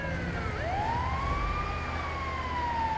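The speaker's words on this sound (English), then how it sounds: "Great move bringing an ambulance." A wailing ambulance siren in a video game, its pitch sweeping up and holding in a loud continuous tone over engine rumble, close by with no talk.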